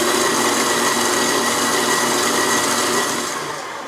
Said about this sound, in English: Beating at a medium speed, add the remaining milk, and this gets beat for 2 minutes.